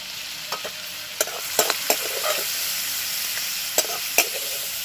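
Prawns fry lightly in hot oil in a pan, giving a continuous bright sizzle with scattered sharp pops and spatters, close and moderately loud.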